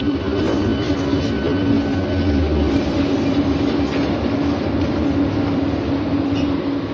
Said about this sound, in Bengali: ফাঁকা ট্রেনে উঠে পড়লাম আর এগিয়ে চললাম আমার আজকের গন্তব্যের দিকে।